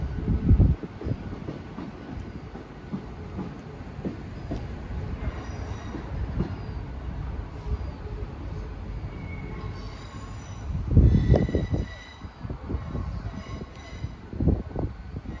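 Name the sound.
Class 175 Transport for Wales train arriving at Hereford station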